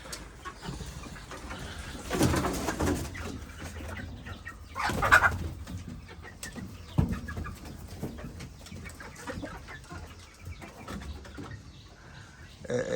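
Backyard chickens at home, soft scattered clucks and fowl calls at low volume over faint ambient noise, with a couple of louder bursts mid-way.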